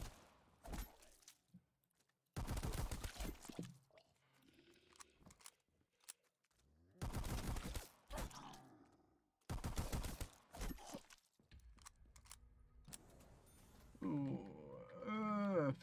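Gunshots in Black Ops 3 Custom Zombies fire as a few separate loud bursts between quieter stretches, with talking heard near the end.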